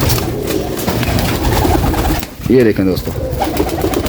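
A breeder's pigeons coo in a loud, close series of throaty, rolling calls, with someone talking over them and the birds' background chatter.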